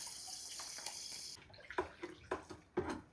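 Detergent mix stirred into about three litres of water in a bucket: a brief running-water hiss gives way to soft, uneven sloshing and splashing strokes, quiet and close, with no talking.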